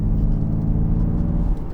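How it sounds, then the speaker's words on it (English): A Ford Mustang Mach-E on the move gives off a faulty wheel bearing's constant low rumbling whir, a loud, unbroken drone of road and drivetrain noise. "That's the sound. That's a wheel bearing."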